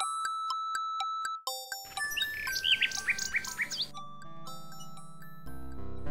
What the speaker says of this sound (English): The nightingale only looks at Alexander curiously and continues to sing.